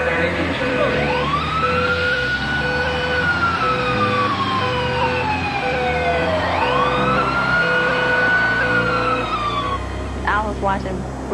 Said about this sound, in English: Jacksonville fire rescue units were dispatched to the scene.